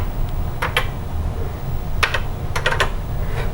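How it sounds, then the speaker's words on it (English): Keys tapped on a Tandy Color Computer 3 keyboard produce a few sharp, close clicks in short bursts over a steady background hum. "Let me check this keyboard."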